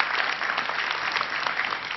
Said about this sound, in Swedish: Applåd för dig.